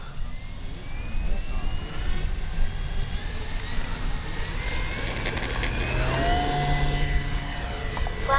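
An RC Avios Super Tucano model airplane takes off, its electric motor whining and rising in pitch as it climbs away, a steady buzzing drone that shifts tone as the plane passes.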